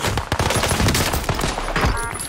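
Rapid bursts of video game gunfire crack loudly and close, overlapping into a dense fusillade of shots with a few sharper peaks, and no voices.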